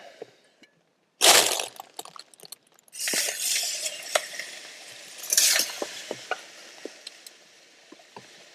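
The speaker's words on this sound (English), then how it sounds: "let's stick some water on the coals." Water hits hot sauna stones in a small single-person sauna built into a Polish Army lavvu tent, giving sharp bursts of hissing sizzle in several separate pours with crackles and pops between them.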